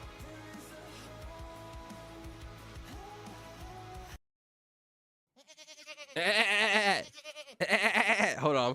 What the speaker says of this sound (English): What sound does a goat make?